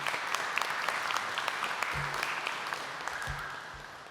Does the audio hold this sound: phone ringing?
no